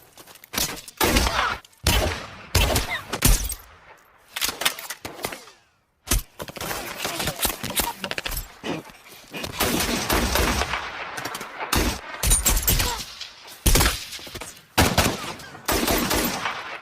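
Heavy gunfire fills a war film battle scene in which Taliban fighters attack, with loud rapid bursts and machine-gun volleys crackling almost nonstop and broken by brief pauses.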